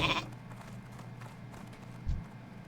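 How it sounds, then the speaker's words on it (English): Sheep bleat from the Polymorph spell in World of Warcraft Classic, a short cartoonish bleat at the start over a low hum of game sounds, with a brief thump near the end. "I just turned him into a sheep"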